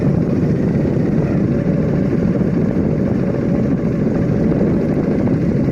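A motorcycle engine runs steadily while riding through thick fog, giving a continuous low droning hum with road rumble at a constant level and no voices.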